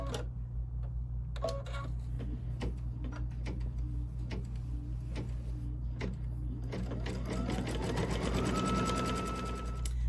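A Kimberbell embroidery sewing machine stitches the light gray outline of a mug design, a steady rapid mechanical clatter over a constant motor hum, running close and loud for the whole stretch.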